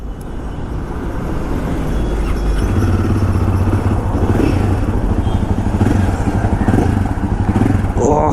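Engine noise from a Royal Enfield 450 motorcycle carries steadily and loudly while it is ridden on a hot day, mixed with wind rush throughout.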